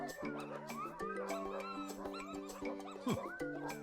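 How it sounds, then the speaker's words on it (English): Neighbourhood dogs bark, yip and whimper in a busy, overlapping chorus, a lively tangle of yelps and whines that carries on without pause. "Oh, Barry, you've set off all the neighborhood dogs again."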